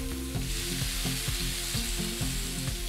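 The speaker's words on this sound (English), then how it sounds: "We're gonna start cooking our potatoes. Basically, we're gonna be browning these." Potatoes, already microwaved, brown in hot oil in a pan with a steady sizzle, broken by regular stirring scrapes about twice a second, close and fairly quiet with no talk.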